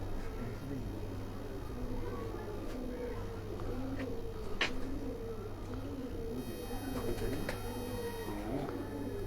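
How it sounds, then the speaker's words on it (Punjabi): Kasuri pigeons in a flock or loft in Havelian cooing steadily, layered soft murmuring calls close by with a continuous low hum underneath and a few sharper chirps, no one speaking. "ਕਸੂਰੀ ਕਬੂਤਰ ਦਾ ਤੁਹਾਨੂੰ ਸ਼ੌਕ ਕਰਾ ਰਹੇ ਹਾਂ ਜੀ।"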